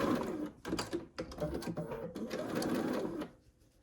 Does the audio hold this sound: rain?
no